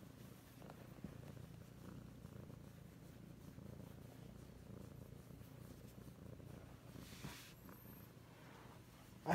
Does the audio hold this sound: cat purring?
yes